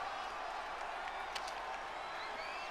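Capacity arena crowd in the wrestling video game WWE 2K20, a constant dense roar of cheering with scattered claps and whistles, loud and unbroken throughout.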